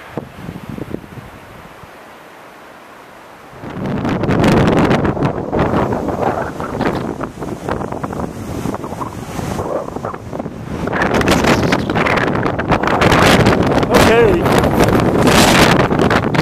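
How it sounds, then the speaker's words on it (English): Strong wind gusting at the Cottonwood Lakes on a mountain hike, roaring and buffeting the microphone loudly after a quieter start, with a brief spoken word early on. "I just got up to the first Cottonwood Lakes here, and it's really windy up here"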